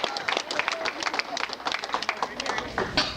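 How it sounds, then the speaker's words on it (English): An audience at a girls basketball banquet gives a round of applause, dense, continuous clapping with voices mixed through the crowd noise. "So I'd just like to give her a big round of applause."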